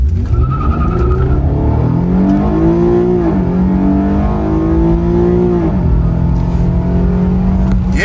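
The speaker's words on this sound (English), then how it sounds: "see if we can get a little 0-60 here" A 2014 Infiniti Q50 Premium accelerates hard from a standstill toward 60 mph, its engine note climbing loudly through the revs with brief dips at each gear change, heard close and continuous without speech.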